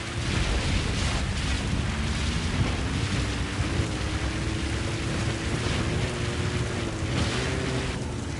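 Rain in the video game Metal Gear Solid V pours as a dense, steady hiss with a low rumbling undertone and a faint tonal hum, continuing unbroken throughout.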